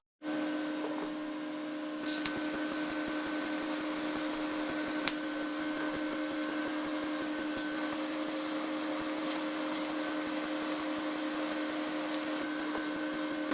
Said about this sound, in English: But I'm going to do a little TIG welding,